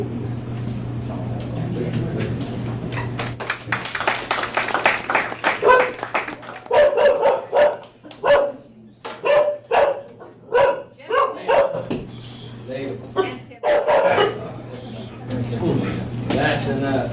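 A dog barks in a rapid series of loud, close, sharp barks, some yipping, alongside talk and brief bursts of clapping in an indoor prison dog-training program setting, with a steady low hum underneath.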